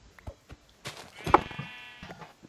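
Sheep bleat in Minecraft survival gameplay, a wavering bleat standing out near the middle among short scattered game noises and clicks, fairly close and moderately loud.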